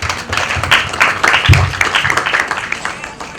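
An audience claps at a breast cancer awareness campaign launch, a burst of fairly loud applause from many hands that swells and then fades, with some speech mixed in.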